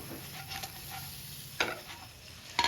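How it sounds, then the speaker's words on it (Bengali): Fish pieces frying in a pan with oil make a continuous close sizzle, broken by two sharp scraping stirs as the pieces are turned. "মাছগুলো উল্টিয়ে পাল্টিয়ে ভালো করে লাল লাল করে ভাজতে হবে।"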